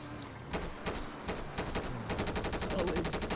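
Rapid bursts of gunfire aimed at a car's tires in a GTA roleplay video game, a string of sharp shots that speeds into fast repeated firing, loud and close with no talking over it.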